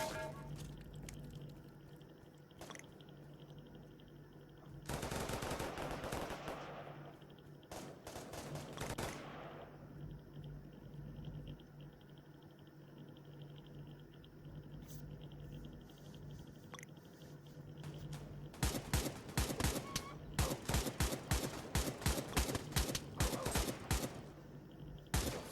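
AK assault rifle fire in the Pavlov VR shooter game, heard as loud bursts of rapid gunfire around 5–9 s and a dense string of sharp, closely spaced shots from about 19 s to the end, with quieter gaps between.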